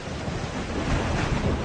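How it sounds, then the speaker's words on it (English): Big sea waves whipped up by a hurricane surge and rumble as a steady, loud wash of surf mixed with wind buffeting. "There are big waves on the sea."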